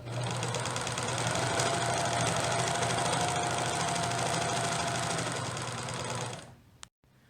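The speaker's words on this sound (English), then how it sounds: "you cannot backstitch on an overlock machine" Overlock machine stitching a curved edge of a baby jumper, a fast steady mechanical whir and rattle running continuously for several seconds up close, then stopping with a small click.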